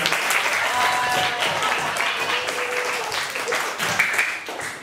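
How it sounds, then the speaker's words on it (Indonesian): A classroom group applauds, a steady wash of many clapping hands lasting several seconds, with some voices and chatter mixed in underneath. "kita beri tepuk tangan"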